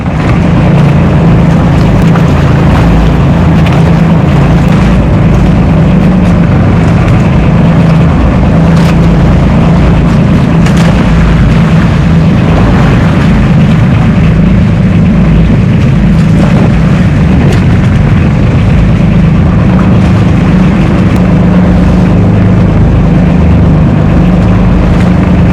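A boat engine runs loud and close, a constant heavy rumbling drone that stays steady and unbroken throughout, with no talk over it.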